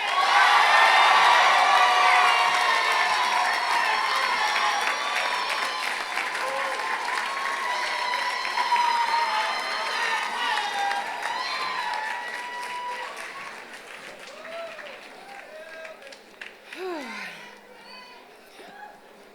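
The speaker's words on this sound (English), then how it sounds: "Let's give another warm round of applause for our wonderful UCI class 2019" Large audience at the 2019 UCI School of Law commencement breaks into loud sustained applause with cheers and whoops, gradually thinning toward the end with scattered shouts.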